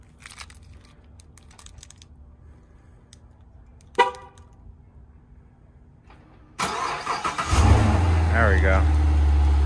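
A Corvette that has sat for two weeks after off-roading cranks and fires up, the engine catching abruptly and settling into a loud, steady idle, with a person talking briefly beforehand.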